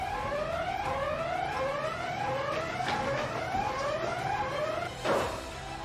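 Fire station alarm signal calling rescuers out for a building fire. A repeating rising electronic wail sweeps over and over at moderate level, with a sharper burst near the end.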